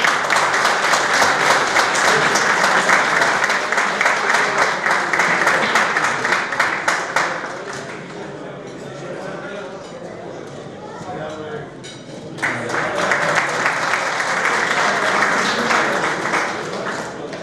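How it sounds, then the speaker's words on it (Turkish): Guests at a hunting club's season-opening dinner applaud loudly for several seconds, the clapping thins into quieter room chatter and clinks, then a second strong round of applause rises again. "Alkışlarınızla burayı davet ediyorum."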